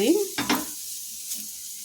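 A cut onion rubbed across a hot dosa pan, a short scraping stroke with a quick hiss of sizzle, close up, then a fainter steady frying hiss with a second light rub.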